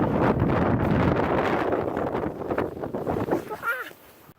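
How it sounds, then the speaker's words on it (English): Heavy wind buffets the microphone in a loud continuous roar, easing slightly toward the end as a voice briefly speaks. "It's so windy up here."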